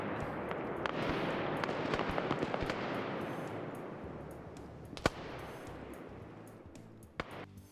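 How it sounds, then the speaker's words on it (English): Dense, rumbling bursts of gunfire with scattered sharp cracks, a steady barrage that continues without pause, plus a couple of louder isolated shots. "They're just responding to the gunfire as they're looting."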